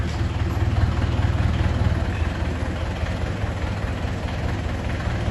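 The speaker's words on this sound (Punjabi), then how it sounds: "ਲੱਗੇ ਟਰੈਕਟਰ ਪਾਉਣ ਚਲੋ" A tractor engine runs steadily at close range during a house demolition, a continuous low rumbling drone with a heavy idle throb and no pauses.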